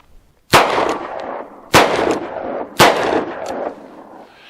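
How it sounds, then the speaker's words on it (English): A Taurus Poly Protector snub-nose revolver fired double action with .38 Special, then +P, then Magnum loads: three loud, close, sharp shots about a second apart, each with a ringing tail. "let's do the same thing out of the Taurus poly protector. Again, 38 Special, and then plus P, and then Magnum"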